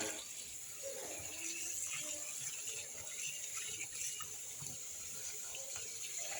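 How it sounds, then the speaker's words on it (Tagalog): Tap water runs steadily over raw chicken wings being rinsed in a sink, a constant close hiss with faint shifting splashes as the pieces are washed. "Ayan guys, babanlawan ko na to guys."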